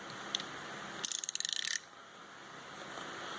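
A rapid burst of about a dozen crisp clicks from a 72-tooth, double-head, offset half-inch and 3/8 ratchet being cranked, heard close up over a quiet room hiss with no speech.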